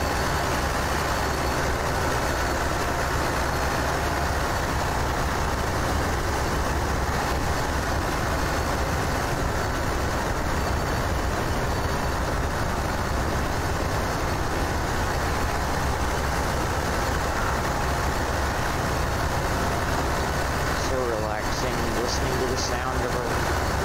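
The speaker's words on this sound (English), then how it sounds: "These little MTZ tractors have incredibly loud engines, man." An MTZ tractor engine runs loudly and steadily close by with a dense, continuous rumble, while a voice speaks briefly over the noise.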